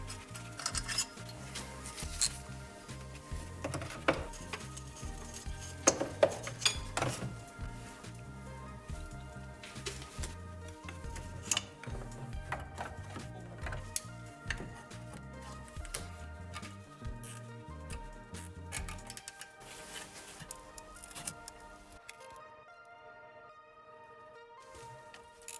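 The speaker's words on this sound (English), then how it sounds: "let's get this alternator cradle out of the way" Work on the alternator cradle of a high-mileage BMW E36, with a steady stream of close metallic clicks, taps and clinks of tools and parts that thins out and fades toward the end.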